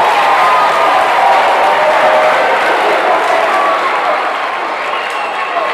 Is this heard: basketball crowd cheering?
yes